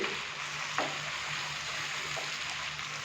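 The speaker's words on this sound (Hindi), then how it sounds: "इसको थोड़ा सा और भून लेंगे ताकि जो हमने अभी इसके अंदर स्पाइसेस डाले हैं तो उनके साथ भी चिकन की अच्छे से भुनाई हो जाए" Chicken frying in a pan with turmeric, salt and coriander powder, giving a steady, close sizzle with a couple of faint scrapes of stirring, no talk.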